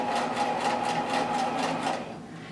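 A sewing machine stitches a coiled rope bowl, its needle pulsing in a fast, even rhythm close by with a steady motor hum, slowing slightly at the end.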